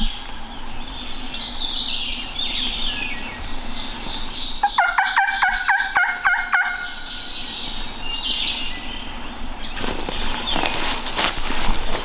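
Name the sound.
wild turkeys gobbling in distance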